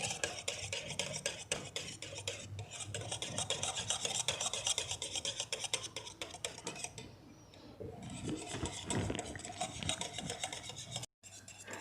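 A wire whisk beats homemade mayonnaise by hand in a bowl, giving a steady, rapid scraping and clicking rhythm against the sides. It runs close and continuous for most of the stretch, with one brief pause and no talking.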